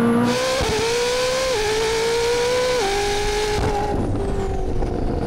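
A hypercar does a launch under full acceleration with automatic gear shifts. The engine's loud, close whine climbs in pitch and drops back at each of several quick upshifts, with no voices over it.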